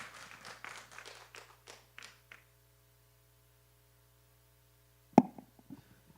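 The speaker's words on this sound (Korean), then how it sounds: "우리 박수 한번 쳐주세요." At a church financial seminar, a small congregation claps faintly for a few seconds. The applause trails off into near silence, broken by a single sharp thump near the end.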